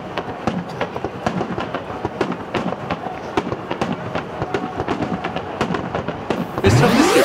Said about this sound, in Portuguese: E para encerrar a noite, um show deslumbrante com a queima de fogos.